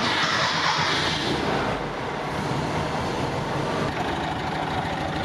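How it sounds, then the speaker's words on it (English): A 1962 Volkswagen truck with an 1835 cc engine and two carburetors running at a steady idle, a loud continuous rumble with no talking. "I'll go ahead and start it. We'll listen to the engine."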